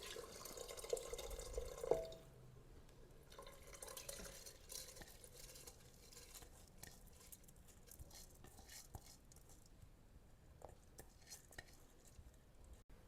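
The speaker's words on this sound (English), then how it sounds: "After adding all the basmati rice and water, mix everything well" Basmati rice, water and masala being stirred together in a pot for South Indian tomato rice, with a few louder scraping knocks early on, then a steady, quieter wet mixing and dripping.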